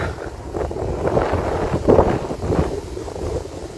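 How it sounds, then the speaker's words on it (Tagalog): Strong wind roars steadily during a forest fire, with broadband rushing and buffeting gusts on the microphone that swell near the middle and then ease, loud and continuous with no talk. "Ang lakas pa naman ng hangin."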